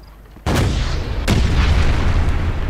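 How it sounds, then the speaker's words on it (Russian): Two heavy tank cannon blasts in the Wolfenstein video game, a sharp booming shot followed less than a second later by a second one, each leaving a loud rumbling roar that carries on behind. "Это танк."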